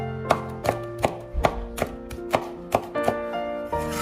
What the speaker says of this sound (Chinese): 切好之后再改刀将小米辣切碎